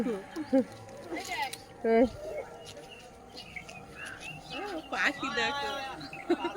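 Birds chirp and coo nearby in short bursts at dusk as they head to roost, while people talk over them.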